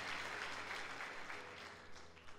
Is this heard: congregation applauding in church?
yes